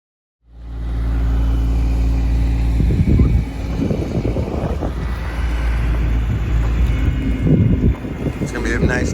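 A Bobcat skid steer engine idles with a steady low rumble close to the mic while digging a tiny house pad, with clanks and mechanical noise over the drone and some wind.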